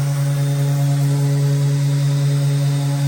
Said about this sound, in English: It seems to be sanding really nicely.